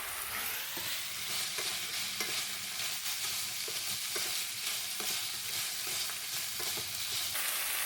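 Garlic chive shoots, dried tofu and pork slices stir-fry in a hot pan with a loud, constant sizzle and a rhythmic series of spatula scrapes and tosses throughout.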